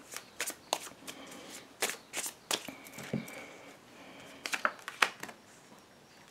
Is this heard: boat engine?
no